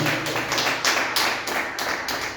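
Church congregation clapping along in a steady rhythmic beat during worship, close and continuous over about two seconds.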